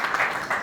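Brief burst of audience applause at a college road safety awareness campaign, a steady dense patter of many hands clapping throughout.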